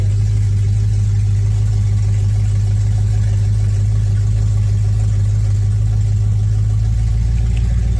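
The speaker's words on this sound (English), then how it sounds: "Now, that was the cold start, so it went all the way through the cold start." A BMW E9X M3 with a Bomiz X pipe exhaust idles after a cold start, a loud, steady, deep engine drone that holds for the whole stretch with no revving.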